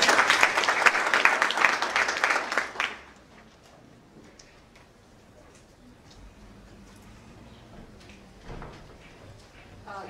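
Audience applause at a Kenyatta University Parkland School of Law event, dense clapping for about three seconds that quickly fades to a quiet room with faint shuffles.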